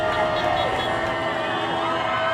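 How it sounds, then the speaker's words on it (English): A protest crowd in Fort Worth cheers loudly and steadily throughout, a dense roar of many voices with shouts mixed in. "Lots of loud cheering, as you can hear"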